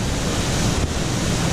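Steady, loud roar of falling water heard from behind a waterfall that has undercut a columnar basalt lava cliff, a dense wash of noise filling the whole clip with no voices.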